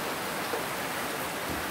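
Heavy rain pouring down, a dense continuous hiss of drops on surfaces, steady and unbroken throughout.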